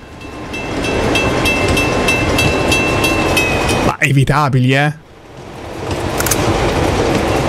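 Train rolling through a tunnel in the video game Uncharted 2, a steady loud rumble with rhythmic clatter and metallic clinks, briefly cut by a short burst of speech before the rolling resumes.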